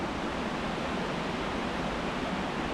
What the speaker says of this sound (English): Check out this waterfall. You can hear it for sure.